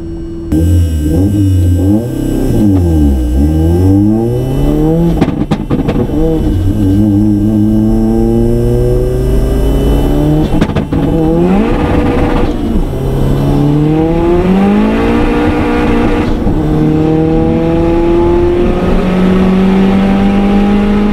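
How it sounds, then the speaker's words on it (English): A very quick BMW race car accelerating on a half-mile run from a 40 mph rolling start, its loud engine note climbing repeatedly through gear changes, sustained and close throughout. "That's a very, very quick car."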